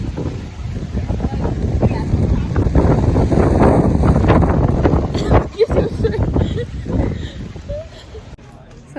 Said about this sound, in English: I think it's a little too windy.